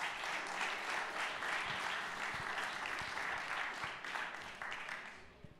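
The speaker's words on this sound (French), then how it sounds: "je vous demande d'applaudir François Barouin." A crowd applauds steadily with dense clapping that slowly thins and fades toward the end.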